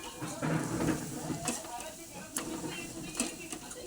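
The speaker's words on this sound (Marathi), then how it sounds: "त्यात आता खोबऱ्याचा भुर्का घालायचा, परतून घ्यायचं आहे" Grated coconut sautéed in a pan for besan vadi curry, with soft, steady stirring scrapes and a faint sizzle close by. A voice talks over it early on.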